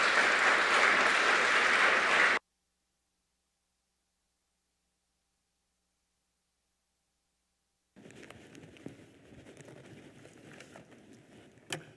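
Audience applause welcoming a lecturer at a print study center exhibition event: a dense burst of clapping for about two seconds that stops abruptly, followed by silence and then a low room murmur with small rustles.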